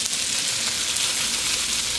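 Noodles and sauce sizzle steadily in a hot pan during a Pad Thai stir-fry, a loud, continuous bright hiss with no pauses.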